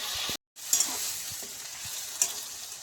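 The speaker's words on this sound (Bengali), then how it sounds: "আদা, রসুন, টমেটো সব একসঙ্গে দিয়ে ভেজে নেব।" Onion, ginger, garlic and tomato frying together in a pan, a steady loud sizzle with stirring scrapes and a couple of sharp crackles, briefly cut off near the start, no talking.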